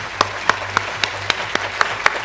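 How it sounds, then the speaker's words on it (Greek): An audience at a company manager event applauds the team managers with steady, evenly spaced claps over a low hum of the room. "θέλω ένα θερμό χειροκρότημα πραγματικά σε όλους τους μάνατζερς της ομάδας"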